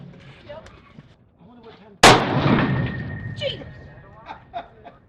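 A single loud, close rifle shot fired while sighting in a new rifle, a sharp crack with a long decaying echo, between quiet stretches of outdoor background sound.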